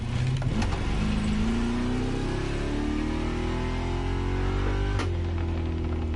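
A Ford Mustang engine revs and accelerates nearby, its pitch climbing steadily, with a brief surge near the end.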